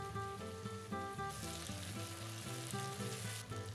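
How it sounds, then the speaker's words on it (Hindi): Chopped tomatoes fry in a pan with garlic, ginger and chili paste for rajma masala, giving a steady loud sizzle with brief stirring clatter throughout and no talk. "अब इसमें चॉप टमाटर भी शामिल कर देंगे"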